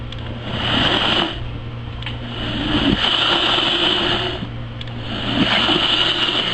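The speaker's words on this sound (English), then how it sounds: "We're going to close the lid, and we are going to puree." A blender with its lid closed purees garlic and port wine for a smoked meat sauce, giving a loud, steady motor whir that swells and eases in pitch as the contents churn.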